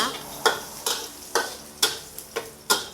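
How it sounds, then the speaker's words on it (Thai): Chopped garlic fries in a hot pan, a close sizzle broken by about seven sharp, rhythmic scraping stir strokes in quick succession. "หั่นกระเทียมเสร็จก็ใส่กระทะได้เลย"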